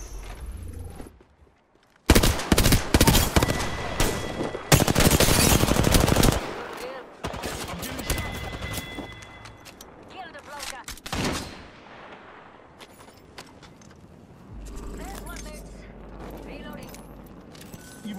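Gunfire in Apex Legends: loud bursts of automatic fire and single shots, with sharp, dense volleys and quieter stretches in between, mixed with in-game effects and players talking.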